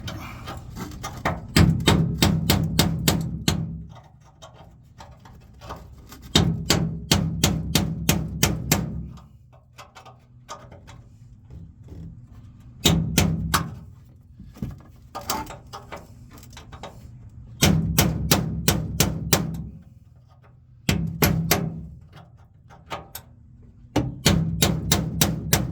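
Metal punch ground into a small chisel, struck by a hammer during passenger-side A-pillar bodywork on a VW Bug restoration; loud, rapid bursts of sharp metallic blows in several clusters separated by short pauses.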